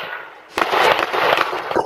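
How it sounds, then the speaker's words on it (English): Gunshots picked up by a neighbor's surveillance camera on a Milwaukee street at night: after a quiet hiss, a rapid burst of sharp cracking reports follows for over a second, loud and harsh. "Chanel Hendricks describes the moment she heard gunshots."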